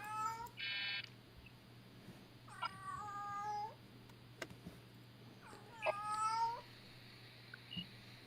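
A cat meows three times in separate, drawn-out calls spaced a few seconds apart, over a steady low hum, with a short high beep near the start.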